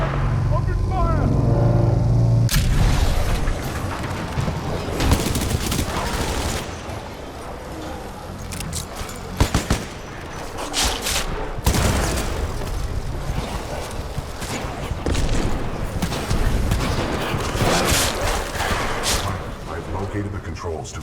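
Gunfire in the Titanfall 2 campaign, a dense run of loud shots and bursts across a busy game soundscape with rumbling engines and effects, lasting the whole stretch.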